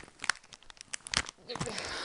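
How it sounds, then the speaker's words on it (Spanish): Plastic packaging crinkles and tears in a quick series of crisp snips and rustles close by, ending in a longer tearing scrape. "vamos a intentar abrirlo con las tijeras"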